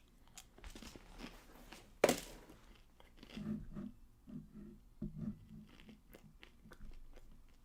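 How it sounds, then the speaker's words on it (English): Someone bites and chews crunchy pizza close up, a sharp bite followed by several irregular bursts of muffled mastication with quiet gaps between. "Yeah, the crunch. This is a good pizza."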